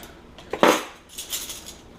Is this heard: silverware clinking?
yes